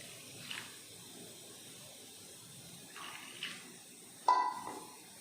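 Water poured into semiya uthappam batter made with vermicelli, semolina and salt, a faint soft trickle and splash in short bursts over quiet background hiss.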